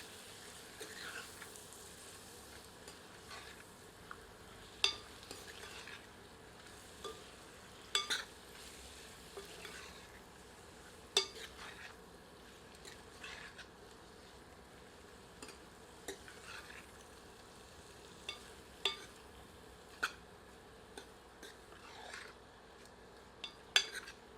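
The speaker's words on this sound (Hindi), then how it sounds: "सबको मिलाकर 2 मिनट भूनते हैं।" Spinach chicken with chili and coriander powder frying in a pan, a faint low sizzle under occasional quiet clicks and scrapes of a stirring spoon, no voices.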